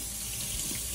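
A tap runs steadily as a jar is rinsed in a kitchen sink during pickle making, giving a continuous close splashing hiss of water with no pauses.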